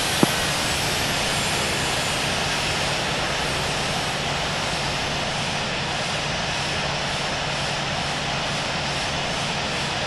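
A Boeing 787 jet in the Infinite Flight game at full takeoff power, a steady loud engine roar and whine holding evenly throughout with no voices.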